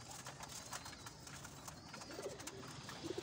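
Soft, low pigeon coos near the end, faint against a steady background hiss and murmur; a few brief calls rather than a continuous song.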